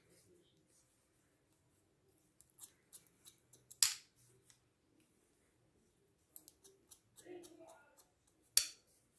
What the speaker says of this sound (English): scissor over comb, comb in, tilt back, scissors, just moving very slowly but keeping the comb moving all the time